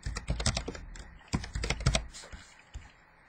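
Close, fairly quiet typing of a username and password on a computer keyboard to log in to a vehicle logbook app, with quick bursts of keystrokes separated by short pauses.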